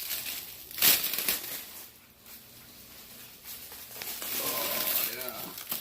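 A plastic roasting bag is peeled and crinkled off a freshly roasted herb turkey, with close, intermittent rustling and crumpling and a sharp crackle near the start, under quiet talk.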